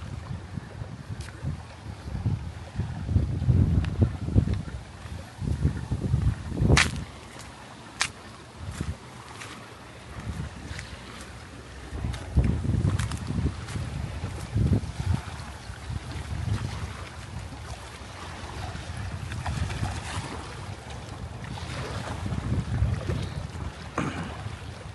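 Gusty wind blows outdoors, buffeting loudly in uneven surges that rise and fall over a steady rushing background, with occasional sharp knocks.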